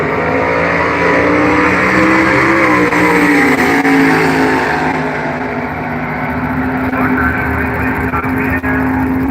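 Drag race cars run side by side at a Halloween Classic drag racing event, a loud, sustained engine roar holding steady for the whole stretch with broad rumbling tone and no pauses.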